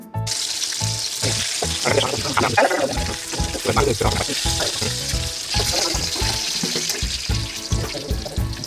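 Brinjal pieces fry in hot oil in a pan, giving a steady, close, hissing sizzle with frequent clinks and scrapes of stirring throughout.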